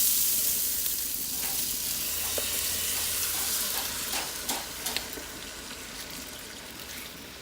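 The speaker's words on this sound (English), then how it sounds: "at this point I'm going to add my rice to the oil. You'll hear it fuzz just a little bit" A soft, steady sizzle of rice frying in hot oil, with light crackles and scattered small pops over a quiet hiss.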